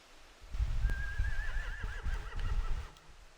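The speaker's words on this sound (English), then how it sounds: "They have horses." Horses neigh in The Walking Dead video game, a single clear whinny rising and trilling over low ambient rumble and faint hoof-like thuds, close and fairly loud.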